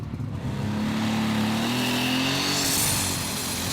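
A superstock pulling tractor at the Brande Eurocup in Denmark gives a loud, continuous engine roar whose pitch climbs steadily as it pulls, with no voices.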